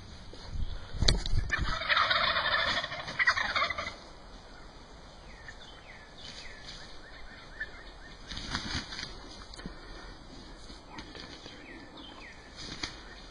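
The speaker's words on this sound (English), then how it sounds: "I got 6 turkeys in front of me" Wild turkeys gobble in a burst of overlapping calls outdoors, followed by quieter scattered gobbles and rustling against a steady background hiss.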